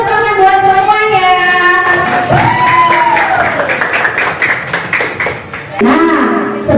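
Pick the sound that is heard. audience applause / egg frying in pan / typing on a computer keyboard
audience applause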